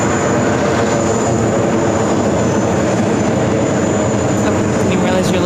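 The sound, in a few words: American Airlines Airbus A321 arriving at JFK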